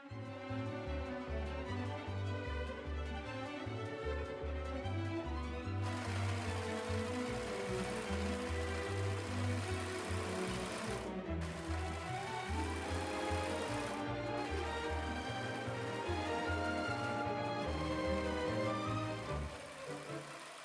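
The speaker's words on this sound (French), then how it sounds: "Et enfin, surjetez les petits côtés des rectangles du volant." An overlock serger runs steadily while finishing the short edges of flounce rectangles for a dress made from a T-shirt, a continuous close mechanical whir with brief pauses and changes of pace, and no one speaking.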